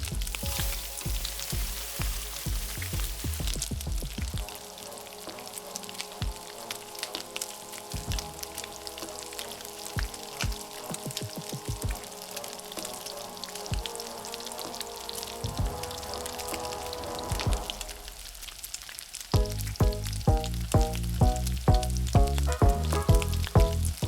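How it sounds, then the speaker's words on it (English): Shallots sautéing in a pan of oil for penne alla vodka produce a loud, close, continuous sizzle with occasional stirring clatter, and a rhythmic musical backing rises near the end. "Now it's time to saute the shallots."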